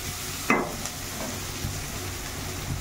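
Onion frying in a pan for aloo chokha, a steady low sizzle throughout with one sharp stirring scrape near the start and faint utensil movements after.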